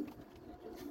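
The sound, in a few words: pigeons cooing while being fed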